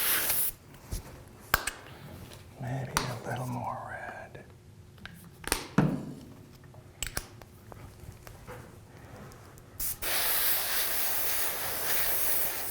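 Spray gun laying a light coat of dark red candy paint, a broad airy hiss building and holding steady near the end, after quieter hushed talk and scattered clunks.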